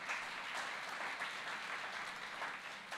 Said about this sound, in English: Give him the round of applause to Jesus this morning.